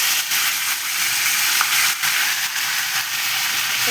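Chopped, washed onion sizzles steadily in a hot pan while greens are fried, a dense continuous frying hiss close up with a few faint stirring touches and no talk.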